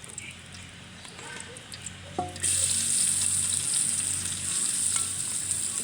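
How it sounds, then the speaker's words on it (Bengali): Onions tossed into hot oil for a chicken curry set off a sudden loud, sustained sizzle after some quieter kitchen clatter and a faint voice. "এখন হচ্ছে মুরগির জন্য পেঁয়াজ দিয়ে দেবো"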